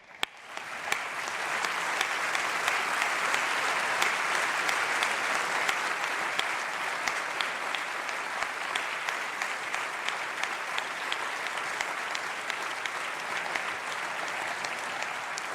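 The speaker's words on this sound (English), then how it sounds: "stand and receive your applause and appreciation" An audience at the National Museum of African American History and Culture breaks into loud, sustained applause for the museum's Advisory Council, swelling within the first two seconds and holding steady with scattered sharper claps.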